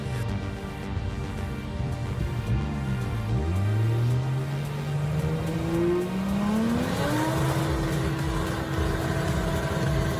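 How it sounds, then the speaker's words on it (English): Nissan Patrol off-road truck powering through deep, slippery mud ruts, its engine roaring loud and close throughout, revs rising and sweeping upward as it pushes forward, with no talk. "The Patrol did not hesitate, powerfully passing through each deep rut and slippery section."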